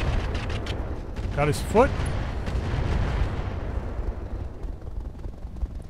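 Mortar rounds launching and detonating in Roguetech, a BattleTech mech game: dense rumbling blasts and booms over a continuous low roar, with a sharp impact near the middle, while someone talks briefly.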